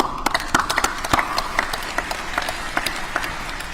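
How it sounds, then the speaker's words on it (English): A modest crowd at a 9/11 ceremony claps for volunteers and a food bank, with distinct individual hand claps standing out sharply over a thinner, fairly quiet clatter of applause. "we want to give you a hand of applause"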